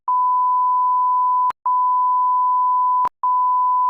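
A steady censor bleep tone in a podcast, three long sustained beeps separated by brief gaps with faint clicks, loud and alone with no talk underneath.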